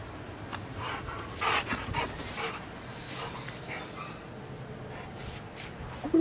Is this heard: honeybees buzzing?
no